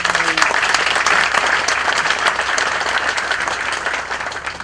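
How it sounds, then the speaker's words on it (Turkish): A crowd at a Turkish civic gathering breaks into sustained applause, dense and loud throughout with sharp individual claps standing out, fading slightly toward the end. "Bir alkış yapın bakalım"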